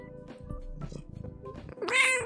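Pet cat meowing close to the microphone, a few short soft mews followed by one louder, drawn-out meow near the end, with no talking during it.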